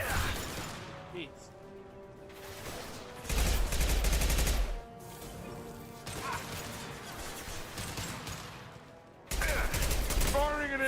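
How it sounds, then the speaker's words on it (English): Combat gunfire in the video game Mass Effect Legendary Edition comes in loud, dense bursts separated by quieter stretches of battle noise and mechanical clatter. "Firing an impact shot."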